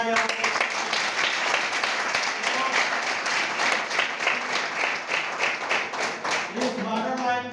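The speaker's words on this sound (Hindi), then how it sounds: "एक बार जोरदार तालियां बजाइए आप लोग मिस्टर बहुना" An audience at a business plan presentation claps for an honoured member, with steady, dense applause lasting throughout and voices faintly under it.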